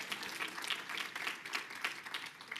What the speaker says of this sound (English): Round of applause for Sophie too.